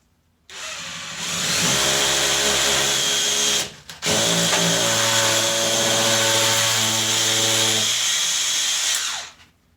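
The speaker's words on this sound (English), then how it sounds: "I'm just going to hammer drill through the wall in order to put the plugs in" A hammer drill whirs loudly and continuously through a wall to make holes for plugs, with a brief pause in the middle, then resumes before winding down.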